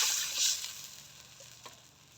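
Spice masala sautéing in a pan for a Bengali fish curry gives a brief burst of sizzling hiss. The hiss then settles into a softer, steady frying crackle with a faint tick near the end. No one talks.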